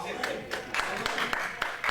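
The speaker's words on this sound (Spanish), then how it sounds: "Denle un aplauso al Señor si puede." Sparse, scattered applause from a small church congregation, a few distinct claps spaced out over two seconds, fairly faint and without any voices.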